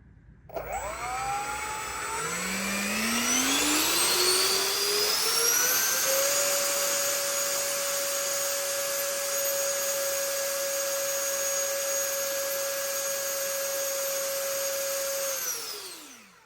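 An electric ducted fan motor on a static thrust test stand spools up from a low whir into a loud, steady high-pitched whine with a rushing airflow roar, holds for several seconds, then winds down at the end.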